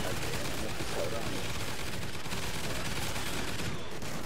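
Shotgun fire in a shooter game, dense continuous blasts and noisy gunfire throughout, with someone talking over it.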